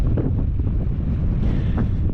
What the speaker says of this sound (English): It is always windy here.